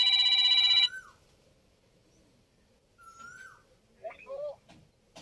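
A loud electronic ringtone trills briefly, then cuts off, followed by quiet room sounds and a few soft animal-like whimpers.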